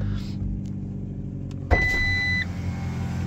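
A 1.4-litre car engine starts up and idles steadily, with a brief electronic chime or beep tone sounding over the running engine just after start.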